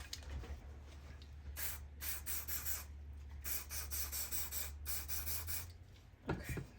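A can of spray paint hisses in several short bursts with brief gaps between them, fairly quiet and close, with no talk over it.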